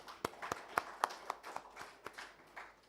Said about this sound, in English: And a good round of applause for each and every one of us.